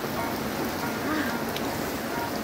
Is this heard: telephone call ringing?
no